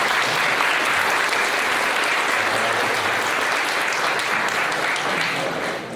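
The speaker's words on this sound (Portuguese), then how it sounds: "eu queria que vocês recebessem uma salva de palmas" An audience applauds steadily to welcome a speaker onto the stage of a talk on hallucinogens and chemical dependency therapy, with dense continuous clapping that holds at full strength for about six seconds before easing slightly at the end.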